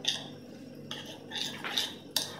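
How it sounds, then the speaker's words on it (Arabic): A spoon stirring a lentil salad with onion, parsley and oil in a bowl, soft clinks and scraping strokes against the dish, four short close bursts in quick succession. "من بعد نخلطو كيف هكذا"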